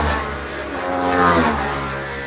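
The McKinsey racing motorcycle roars past at the Cookstown 100 road races, a loud, close engine note swelling and then fading briefly as it passes, with no talk.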